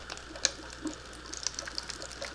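A cup of water from a betta fish setup is dumped out, splashing and trickling faintly with small droplet sounds over quiet background hum.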